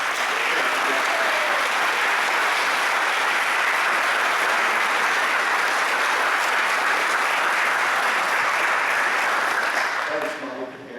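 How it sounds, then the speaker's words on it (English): A room full of people at a San Jose Japantown book event applauds in a sustained, dense wave of clapping that holds for about ten seconds before tapering off. "Please give a round of applause."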